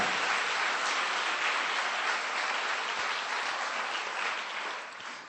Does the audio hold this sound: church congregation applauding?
yes